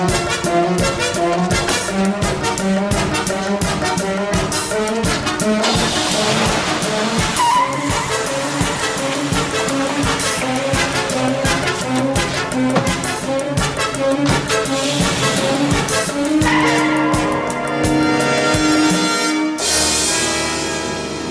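Colt's truck races along with revving engine and tires squealing and skidding, a loud continuous burst of motor noise and screeching rubber that runs the whole time before ending abruptly in a sudden shift.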